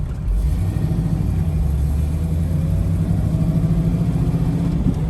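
A 1968 Chevrolet Camaro with a vintage engine runs close by, its steady low rumble idling and pulling away without a break over about five seconds, with no voices.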